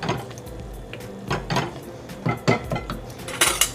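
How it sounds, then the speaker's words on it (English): Chopped chili peppers with their liquid being mixed into a carrot barbacoa filling in a bowl, giving scattered light clinks and scrapes of a utensil against the dish, soft and intermittent with no talking. "And we're just gonna mix those in."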